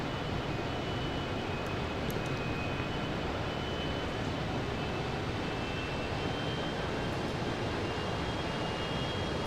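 Simulated A319 airliner engines while taxiing, heard as a steady, even broadband roar with a faint high whine, continuous and unchanging throughout with no voices.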